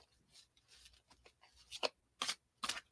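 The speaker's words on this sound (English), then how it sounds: "How many times would you like me to shuffle the deck for you?" A deck of tarot cards is shuffled in several quick, crisp riffling bursts that grow louder toward the end, close by and with no talk over them.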